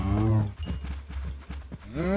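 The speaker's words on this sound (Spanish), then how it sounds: "Quita, aparta, vaca." A Minecraft cow gives a loud, close moo that opens the clip, followed by scattered in-game thumps and clatter, with a second drawn-out moo rising at the end.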